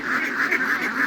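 Ducks on a duck farm make a continuous loud, nasal pulsing chorus of quacks close by, with no talk.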